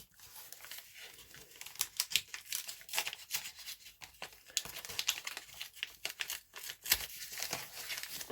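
Crinkly plastic rustling and tearing in quick, uneven bursts, close up, with sharp crackles scattered throughout and no voices.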